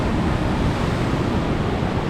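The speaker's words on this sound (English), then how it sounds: "Look how crazy these waves are." Ocean waves crash continuously near Seganing Waterfall on Nusa Penida, Bali, as a loud, dense wash of surf mixed with wind buffeting the microphone.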